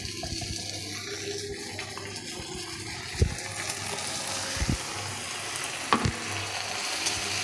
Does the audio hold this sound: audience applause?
no